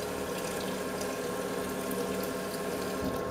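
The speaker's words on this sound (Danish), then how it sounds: "Så vi fylder 2 liter vand i spanden." Tap water running steadily into a bucket, filling it with two liters of water for a cleaning solution, a continuous splashing rush with no talk.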